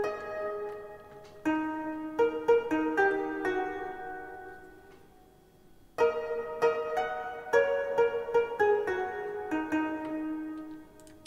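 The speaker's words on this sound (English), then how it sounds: "gaegeum, and it's a Korean instrument" Plucked notes on a Korean gayageum zither in a layered orchestral-style score built in Logic Pro X, with two bright phrases of separate decaying plucks, each starting with a sharp attack and then thinning out, clear and alone.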